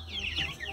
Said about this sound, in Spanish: Aquí tenemos una gallina que se me encaramó